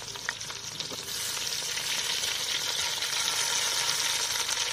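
Chopped onions frying in a clay pot, a dense, steady sizzle that grows slightly louder after the first second, with faint stirring clicks and no talking.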